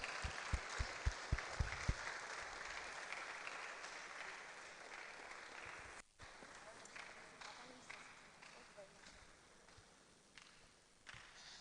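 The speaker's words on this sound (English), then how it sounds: "let's keep clapping" An audience at a mental health symposium claps as a guest is invited on stage, starting with a few sharp distinct claps and settling into continuous applause, while a voice talks over it.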